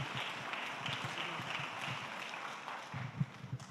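Steady audience applause fills a conference hall, a dense wash of many hands clapping at even loudness throughout, with a few louder claps near the end and a faint voice underneath.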